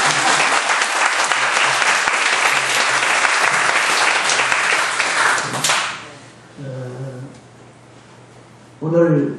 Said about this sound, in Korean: 박수를 한번 쳐줘요